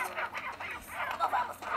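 Chickens in the video game Resident Evil 4 Separate Ways cluck and squawk in a busy, chattering flock, close and fairly faint, with a soft background hum.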